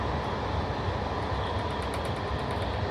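Slow overnight couchette train in Romania rolling along, a continuous loud rumble of wheels and carriage noise with faint squeals on top.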